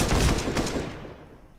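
Gunfire in Counter-Strike during a Liquid versus NAVI professional match, a rapid burst of shots that rings out and fades, with no speech over it.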